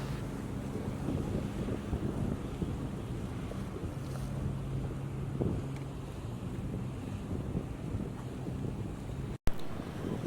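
A private party boat cruises across Sydney Harbour, its steady low engine drone running throughout under wind buffeting the microphone and water wash, with a brief sharp dropout near the end.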